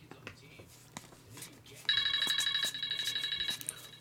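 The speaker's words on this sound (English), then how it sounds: "Phone still texting." A mobile phone text notification rings with a bright, warbling electronic tone that repeats rapidly for nearly two seconds, cutting in over quieter background talk and clicking during a baseball card box break.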